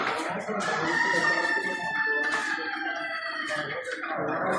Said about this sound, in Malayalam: നാടൻ കോഴികൾ.